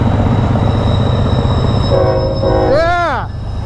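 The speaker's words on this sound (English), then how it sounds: "I think the train's coming." A train rumbles steadily close by while its horn blasts once, bending downward in pitch as it passes a motorcycle riding alongside; a constant roaring rush of wind and engine underneath.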